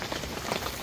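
Rain drums densely and steadily on the fabric of a Mobi Garden rooftop tent mounted on a Range Rover, close and fairly loud with no voices. The patter is continuous and slightly uneven.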